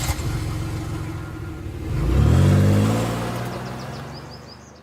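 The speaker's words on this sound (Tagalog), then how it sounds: "pinaandar niya na ang kotse para makalabas ng bakuran" A car engine rumbles and revs up, swelling to a loud close pass as the car pulls out of a yard, then fading away, with no talk over it.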